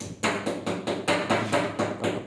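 Sharp, evenly spaced hammer blows, about eight in quick succession, ring out close by during installation of a Stiebel Eltron DE45E water heater, with no talk over them.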